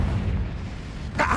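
A Confringo blasting spell bursts in Hogwarts Legacy, a single sharp explosive crack arriving near the end over a low, rumbling game background.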